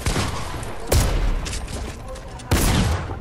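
Gunshots in Fortnite, with two loud, close, sharp blasts about a second and a half apart against a busy game background.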